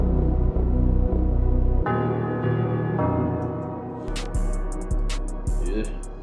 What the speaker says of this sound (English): So then here's the bass.